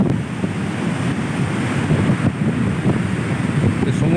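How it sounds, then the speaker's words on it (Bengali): Strong ocean waves crash on Digha beach while gusty wind buffets the microphone, making a loud, continuous roar of surf with no pause. "সমুদ্রে এখন মারাত্মক ঢেউ চলছে,"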